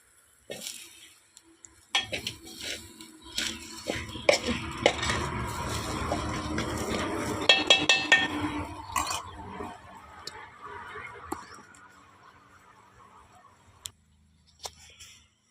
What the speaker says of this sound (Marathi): ते आता हलवून घेते आणि ह्या शेवग्याच्या शेंगा